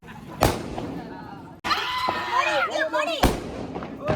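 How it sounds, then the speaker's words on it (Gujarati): Diwali firecrackers burst with sharp, loud bangs, two close blasts separated by crackling and whistling noise, while people talk and shout nearby. "ફટાકા ફોડો તો મજા આવે બધી બાજુ ફટાકા ફૂટે"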